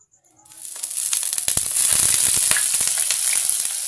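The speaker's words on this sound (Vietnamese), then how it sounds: "Bây giờ mình bắt đầu cho vào chiên nhá các bạn nhá." Bat meat hits hot oil in a pan outdoors in the forest, bursting into a loud, dense sizzle with crackling pops and spatters that keeps going steadily, close up and without talk.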